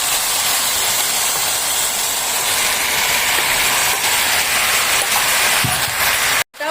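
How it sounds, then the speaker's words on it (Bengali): Marinated chicken dropped into a hot pan with onions for a mango chicken curry, giving a loud, steady broadband sizzle that hisses continuously, cut off briefly near the end. "এবার আমি এর মধ্যে আগে থেকে ম্যারিনেশন করে রাখা চিকেনটা দিয়ে দিচ্ছি।"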